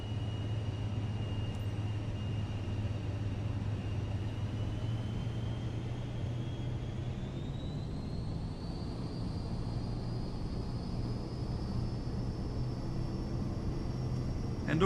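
An airplane taking off in Microsoft Flight Simulator 2024, a steady engine drone with a low rumble, its high whine climbing in pitch partway through as thrust builds.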